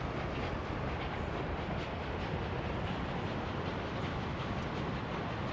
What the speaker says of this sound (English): The train is looking fine.